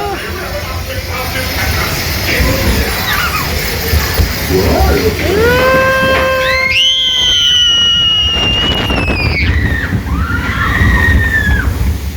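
A Splash Mountain log flume ride splashes down at night: rushing, sloshing water beneath riders' loud rising screams that swell and fade, with a steady wash of spray throughout.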